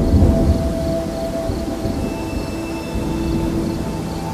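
Deep, sustained thunder rolls rumble low and steady during a stormy night over a village, a continuous dark roar with no distinct cracks and no voices.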